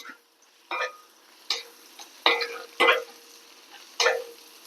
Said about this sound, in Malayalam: ഒരു ചെറിയ കുഞ്ഞു കഷ്ണം കറുവാപ്പട്ടയും രണ്ട് ഗ്രാമ്പു ഒരു കുഞ്ഞു കഷ്ണം വെളു ഇത് ഇഞ്ചി ഇതൊക്കെ ഇട്ട് നമുക്ക് ഇതൊന്ന് ശരിക്കും ഒന്ന് വറുത്തെടുക്കാൻ